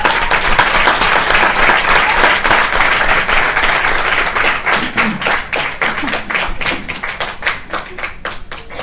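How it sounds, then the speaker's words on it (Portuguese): Audience applause at a book launch for "Inspira-TE" by Mário Caetano, loud, full clapping from a sizable crowd that holds steady for several seconds, then thins into scattered, separate claps toward the end. "Uma salva de palmas para ela já agora."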